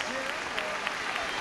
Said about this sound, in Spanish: Mandamos un fuerte aplauso a las candidatas y a los diseñadores.